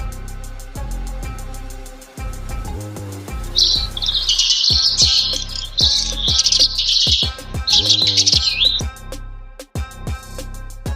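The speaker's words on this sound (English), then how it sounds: "Sparrow." A sparrow chirps in a series of bright, rapid high tweets in several bursts, clear and close, over a steady musical backing.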